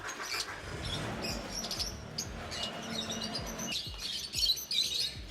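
Lovebirds and other caged birds chirp at a bird farm, scattered bright tweets and calls over a low background rumble, growing busier and louder near the end.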